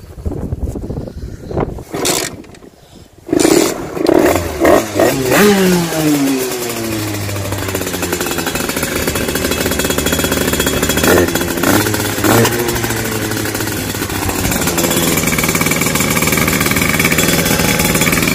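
Motorcycle two-stroke engine with a 28 PWK carburetor and Turbo Kit 80-90 exhaust, 86 cc top end, sputters after a few loud bangs, then catches and runs steadily, revving up and down loud and close for the rest.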